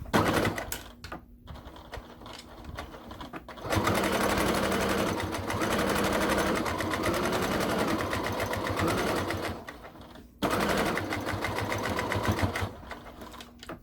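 A sewing machine stitches fabric for a sofa armchair caddy, running steadily in two long, loud bursts with a short pause between them and quieter handling sounds before the first run.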